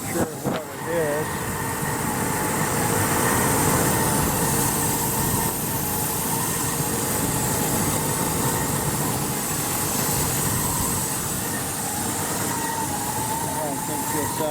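A 1981 Ford Ranger's 300 six-cylinder engine idles roughly with a loud, continuous rumble that wavers unevenly, close by, with voices briefly heard over it.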